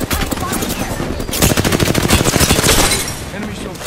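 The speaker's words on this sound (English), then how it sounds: "Getting shot at." Dense rapid automatic gunfire in the Apex Legends battle royale game, loud and close, with continuous bursts of shots and brief voice chatter mixed in.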